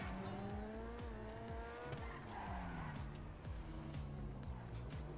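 A car driven with a controller in GTA V with a realistic handling mod, its engine revving and shifting steadily while tires squeal and skid repeatedly throughout, loud and continuous.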